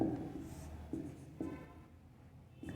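Chalk or marker writing on a board during a math lesson, a scratchy stroke followed by short bursts near 0.9, 1.4 and 2.7 seconds, close and fairly quiet with no talk.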